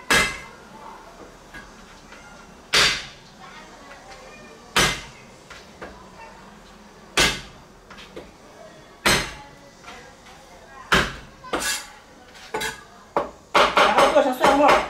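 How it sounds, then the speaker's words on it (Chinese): Garlic is smashed with the flat of a kitchen knife on a cutting board in a busy kitchen. Several sharp, loud thwacks come at irregular intervals, and a faster burst of clattering chops follows at the end. "把大蒜给它拍碎"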